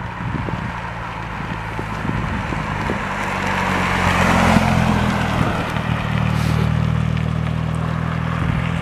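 A Jeep Compass converted into a truck drives up a steep hill, its engine a low, steady drone that swells midway under gusting wind noise.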